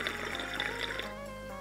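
Water runs into a glass bubbler on a Dr. Dabber Switch vaporizer, a steady close splashing and filling hiss that continues without break.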